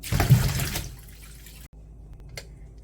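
Running tap water rinses salted burdock root, with a close, loud gush for about a second that trails off into quieter drips and splashes. No one speaks.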